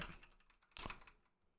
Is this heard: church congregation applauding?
no